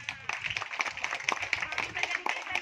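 Audience at a legislative constituency recess meeting in North Sumatra claps in a light, scattered patter, steady and moderately near, with faint background chatter.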